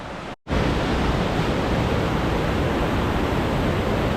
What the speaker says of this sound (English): Water is definitely flowing.